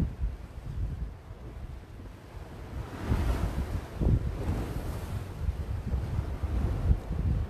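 Sea waves crash against the foot of a sea wall in a series of deep booms and surges, mixed with steady wind rush on the microphone, with no voices.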